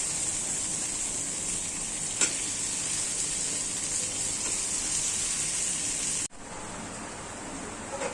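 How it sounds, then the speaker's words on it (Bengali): Eggplant dropped into hot spiced oil in a kitchen pan, giving a loud, steady, hissing sizzle that runs on and briefly cuts out near the end. "এখন বেগুন দিয়ে দিচ্ছি"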